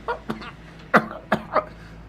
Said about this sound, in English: I'll wake up by coughing